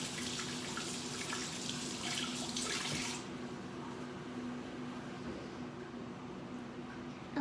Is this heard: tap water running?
yes